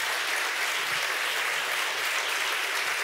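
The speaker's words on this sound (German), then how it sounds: "Applaus ist total okay, aber wenn wir den Applaus kurz halten, können wir ein bisschen ausführlicher diskutieren." A hall audience at a student union election debate breaks into dense, sustained applause, loud and steady throughout with many hands clapping together and no break.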